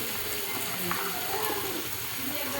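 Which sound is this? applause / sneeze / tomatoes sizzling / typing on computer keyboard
tomatoes sizzling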